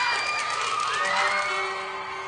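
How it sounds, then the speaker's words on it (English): Children in a curling arena crowd at a Scotties tournament cheering and shouting, a loud, sustained chorus of high-pitched young voices with whoops, heard up close and alone. "The youngsters here cheering on Suzanne Bird and PEI and enjoying the action"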